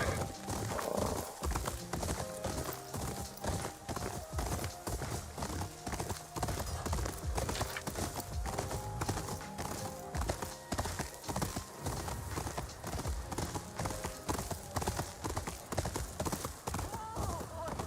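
Horse hooves clop in a steady, rapid rhythm throughout in Ghost of Yotei gameplay, with game music and occasional voices talking over it.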